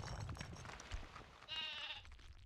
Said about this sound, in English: Nice sheep sound.